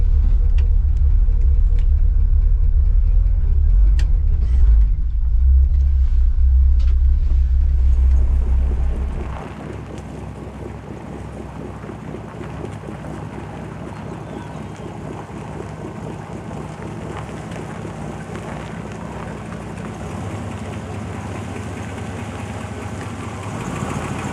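A car with a 702 cubic inch engine rumbles deep and loud while idling at first, then the heavy low throb drops to a quieter, steady idle for the rest of the stretch.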